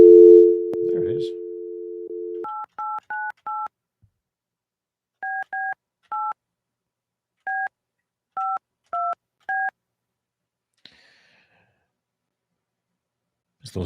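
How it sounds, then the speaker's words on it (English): A steady telephone dial tone gives way to a rapid run of DTMF keypad tones, about a dozen short even beeps in small clusters, clear and close with nothing behind them. "Just those dial tones."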